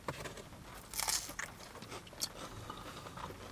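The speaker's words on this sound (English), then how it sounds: "The batter is really crispy and crunchy on the outside" Biting into crispy battered haddock from a fish and chips takeaway brings a close run of sharp crunches and crackly chewing bursts, one loud bite near the start followed by softer crisp chewing, with no talk.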